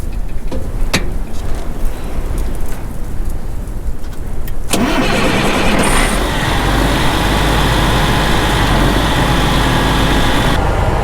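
A Challenger farm tractor's diesel engine starts up partway through and then runs steadily at a loud, close idle, after a stretch of quieter background noise with a few clicks.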